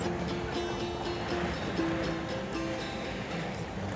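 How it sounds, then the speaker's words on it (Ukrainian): Black Sea waves wash onto the beach at Odesa, a steady and fairly close rush of surf with some wind noise and no break in the sound. "Я просто насолоджуюсь морем."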